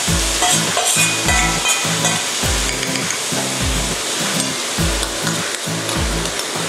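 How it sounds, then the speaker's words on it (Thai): Garlic frying in hot oil on low gas, prepared for fried tilapia with garlic: a loud, steady sizzle throughout, with repeated rhythmic stirring sounds over it. "นำกระเทียมนะคะลงทอด"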